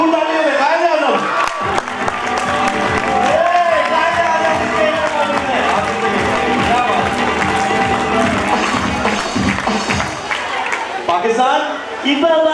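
Audience clapping and cheering at a school's Pakistan Independence Day celebration, a steady loud crowd sound running throughout while an announcer's amplified voice talks over it.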